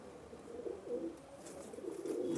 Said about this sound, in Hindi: ये रिजल्टेड वाले कबूतर है, सब ब्रीडिंग वाले हैं ये।